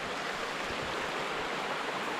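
Clear mountain spring water flowing out from under a rock at the foot of a mountain in the countryside, a steady, broad rushing wash that holds constant and close throughout with no voices.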